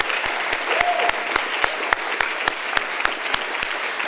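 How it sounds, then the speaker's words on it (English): Crowd at a campus speech showcase applauds its top 10 speakers, with a dense wash of clapping and a few sharp, evenly spaced claps beating steadily through it. "So let's give them a round of applause again."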